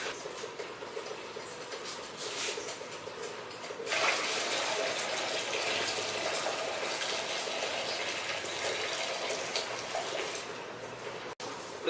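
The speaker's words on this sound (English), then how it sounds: "fill the bucket up with a gallon or so of room temperature water" Room-temperature tap water pours into a plastic bucket in a steady, close gush that grows fuller partway through and runs on continuously before a brief knock near the end.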